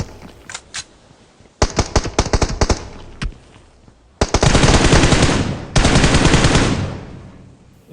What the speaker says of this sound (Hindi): अब मेरी मजबूरी बन जाती है, मैं इसे M4 से ही मार देता हूँ।